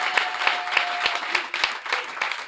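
Church congregation applauding during a worship service, a steady wash of clapping with scattered sharper claps, fairly close and continuous throughout.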